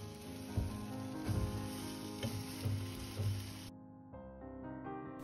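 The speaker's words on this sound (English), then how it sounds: "just fried it up in some coconut oil" Food sizzles and crackles as it fries in coconut oil in a pan, a steady close hiss with small pops and bursts, the sizzle thinning out near the end.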